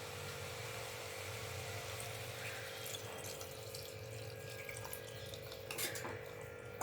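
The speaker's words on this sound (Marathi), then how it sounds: "तर आता 1 वाटी पाणी ऍड करूया" A cup of water poured into a pot of sautéed cowpeas and potatoes, a faint, steady wash of pouring water with light metallic clinks of cookware, no talk.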